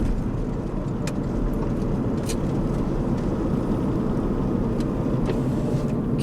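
Porsche 981 Cayman with manual gearbox lapping Inje Speedium race track, a steady droning engine note heard at a distance or from inside the cabin, continuous and moderately loud without clear rev changes.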